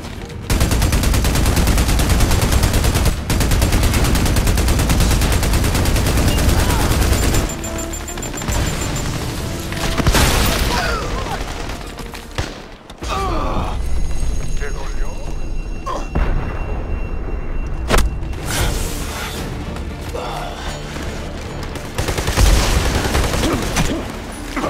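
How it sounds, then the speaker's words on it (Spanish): Heavy machine gun fire and explosions in the video game Army of Two: The Devil's Cartel, loud sustained bursts broken by sharp booms and short pauses, with voices speaking over the chaotic firefight. "¿Directo a una ametralladora?"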